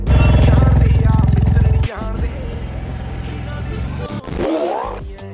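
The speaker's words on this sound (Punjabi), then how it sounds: "ਕੁਛ ਟਾਈਮ ਲਈ ਮੋਟਰਸਾਈਕਲ ਸਟਾਰਟ ਕਰ ਦੇਣਾ ਆਰ ਪੀ ਐਮ ਵਧਾ ਦੇਣੇ ਥੋੜ੍ਹੇ ਟਾਈਮ ਲਈ ਮੋਟਰਸਾਈਕਲ ਸਟਾਰਟ ਰੱਖਣਾ" A Royal Enfield motorcycle idling with engine flush in the oil, revved up to a loud, rapid, pulsing thump that then eases to a lower rumble, with a voice talking nearby.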